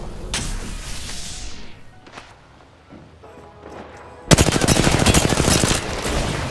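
Gunfire in Apex Legends: a loud shot and a few scattered blasts, then a dense burst of rapid automatic fire that keeps rattling to the end, close and punchy.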